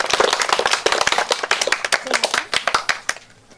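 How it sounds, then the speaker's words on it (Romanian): Guests at a birthday party applaud, a dense burst of hand clapping that thins into scattered individual claps and fades out. "Aplauze tuturor!"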